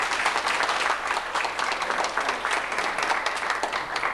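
Audience applause at a chiropractic demonstration in a hotel hall, a dense, even stretch of many hands clapping that holds steady for several seconds without talk.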